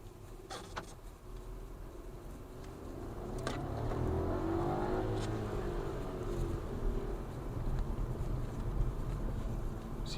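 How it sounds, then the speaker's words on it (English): Cabin noise inside a brand-new 2023 Skoda Scala driving on an uneven road in Ireland: a steady low road rumble and engine hum with faint buzzing, rising slightly as the car picks up speed, with no voices. "Now we're gonna go a bit on the road to see if we have any noise inside."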